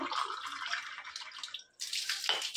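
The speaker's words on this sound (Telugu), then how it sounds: "సో ఇప్పుడు మనం ఫస్ట్ వాటర్ అనేది నింపుదాము." Water splashes and trickles steadily for a couple of seconds, breaks off briefly, then pours again, close by with no voices.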